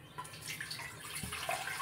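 Water poured into a cooking pot on a lit stove while making toor dal sambar: a brief, soft splashing rush that swells and ends in a louder burst.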